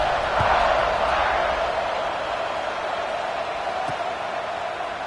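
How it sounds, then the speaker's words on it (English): Stadium crowd in a college football video game, Notre Dame against Stanford, roars in a broad, steady wash of cheering just after a scoring drive, loud and continuous, swelling slightly at first then holding level. "this crowd is feeling themselves after that last drive"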